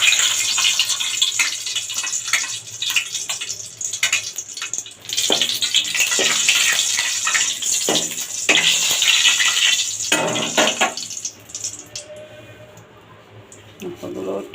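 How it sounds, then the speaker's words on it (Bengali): Two dried red chillies frying in hot oil for a Bengali vegetable dish, a loud steady broadband sizzle with crackling bursts that fades near the end. "এখন দেবো তেলে দেবো দুটো শুকনো লঙ্কা।"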